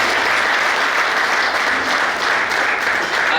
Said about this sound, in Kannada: ಮತ್ತೊಮ್ಮೆ ಚಪ್ಪಾಳೆಯೊಂದಿಗೆ